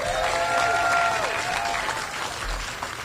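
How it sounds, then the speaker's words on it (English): Steady applause from an audience at a Bronx Point and Universal Hip Hop Museum event, dense and continuous throughout, with some tonal music or voices faintly underneath. "Let's give them all a strong round of applause."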